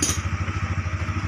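A Yamaha Aerox motorcycle engine runs with a steady low pulsing throb, close and alone. A brief clatter comes at its start, during a diagnostic check on an engine that stalls when hot and shows fault code 12.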